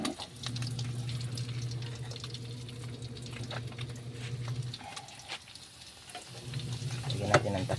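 Sahang fish sizzling as it grills, a soft steady crackle and hiss that briefly drops away, then returns with clinks and handling noises near the end.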